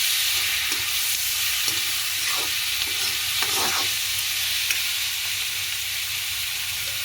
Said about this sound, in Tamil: அதையும் சேர்த்து அறிவா கிளறி விடுவோம்